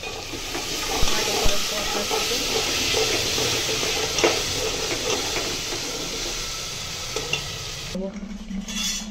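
Spices and tomato sizzle in hot oil in a pan for khichuri, with rice added, while a spoon stirs and scrapes in steady strokes, a close, continuous frying hiss.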